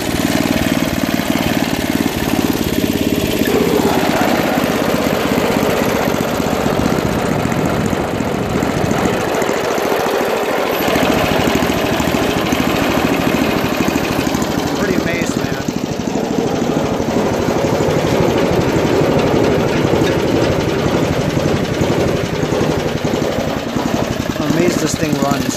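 An Ariens ST824 two-stage snow blower engine idles steadily at a middle throttle setting, a continuous loud mechanical drone that runs throughout with a person talking over it.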